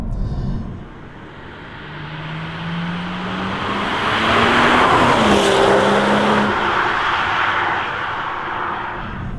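A BMW M240i Motech Edition engine pulls loudly while driving on the road, its revs climbing and then dropping through smooth downshifts over a constant roar of road and wind noise.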